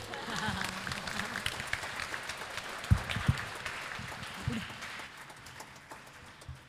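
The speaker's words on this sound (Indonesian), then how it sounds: "Boleh tepuk tangan, jangan malu-malu." A moderate patter of clapping from a crowd at a church wedding service continues throughout, mixed with background murmuring and a few louder thumps.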